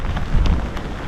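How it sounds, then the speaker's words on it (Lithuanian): Rain in a strong storm on the North Sea coast, with a brief loud rush of heavy rain and wind buffeting close by. "Gavom šiek tiek lietaus."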